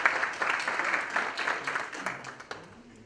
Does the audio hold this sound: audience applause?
yes